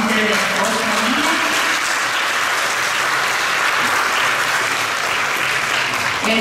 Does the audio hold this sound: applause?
yes